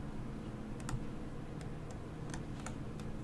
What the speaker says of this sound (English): If you guys can hear my keyboard in the back, I'm sorry. I have a mechanical keyboard